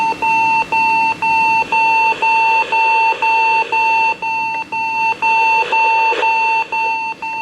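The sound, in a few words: Magnavox D-3150 clock radio alarm going off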